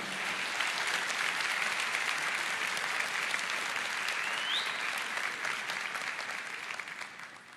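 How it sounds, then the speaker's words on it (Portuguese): A church congregation claps steadily in a long, even round of applause, which fades slightly toward the end. "Então dê uma salva de palmas ao Senhor."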